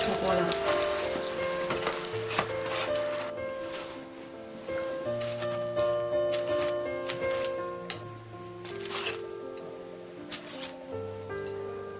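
Chive and pork pancakes pan-frying, a steady sizzle running through with scraping and stirring knocks, while background music plays throughout.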